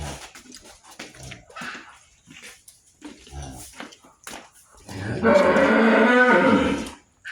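A dairy cow of a foreign-type breed, with a well-formed udder, on a farm in Munshiganj, gives a loud, long moo near the end, after stretches of quieter talk and farm noise.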